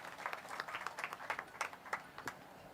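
An audience at the National Red Run event at SAG Ground, Bambolim, Goa, gives a round of applause to welcome Shri Vishwajit Rane, heard as faint, scattered claps in a steady, uneven patter.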